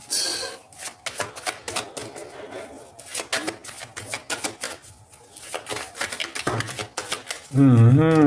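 A tarot card deck is shuffled and cut with rapid papery riffles and flicks in quick bursts, close and fairly loud, while a voice talks intermittently; music enters at the end.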